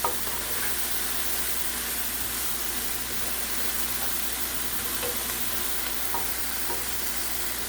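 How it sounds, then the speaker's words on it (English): Brussels sprouts and mushrooms seasoned with garlic powder and onion powder sizzle steadily in a pan, a continuous close frying hiss with faint scraping of stirring, and no voices. "So as you can see, it is cooking down really good."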